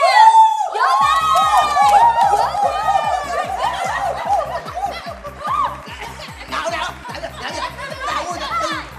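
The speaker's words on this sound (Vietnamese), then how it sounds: "Vỗ tay." A studio audience at a televised comedy show cheers and shouts with laughter as two athletes are brought on stage, the crowd noise sustained over loud rhythmic music with a sung opening.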